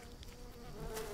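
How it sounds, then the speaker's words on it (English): Insect buzzing of bees in the survival video game Green Hell, a steady faint drone holding for just over a second with no talk over it. "I thought I heard bees again"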